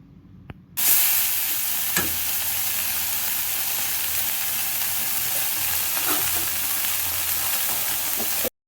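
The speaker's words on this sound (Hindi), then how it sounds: "तो भल से टिके मसला के फ्राए करमा" Loud, continuous sizzling as a ginger, garlic, cumin and coriander spice paste hits a hot pan, a steady frying hiss with a couple of soft clinks from stirring.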